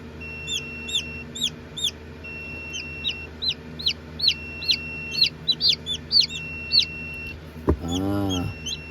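A guinea fowl gives rapid, repeated high chirping calls outdoors on a farm, in quick clustered bursts, near and fairly loud, ending with a brief louder, fuller sound.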